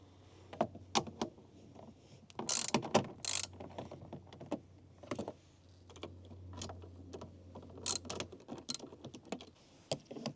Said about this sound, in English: we're going to use a 10 mil and release that bolt and that one right there